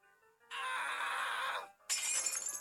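Glass window shattering in the video game Whack the Thief, two loud crashing bursts of breaking glass separated by a brief pause, close and without talk.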